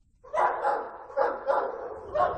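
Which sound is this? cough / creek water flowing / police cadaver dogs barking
police cadaver dogs barking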